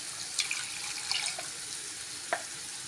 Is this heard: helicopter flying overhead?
no